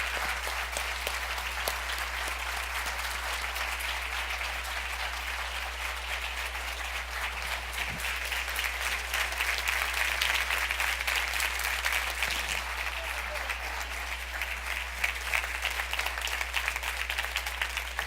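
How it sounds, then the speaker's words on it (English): An audience at an XPRIZE announcement event gives a sustained round of applause for people coming up on stage, steady dense clapping that carries on for the whole stretch. "If I can get everyone that was part of that to come up on stage to get a round of applause"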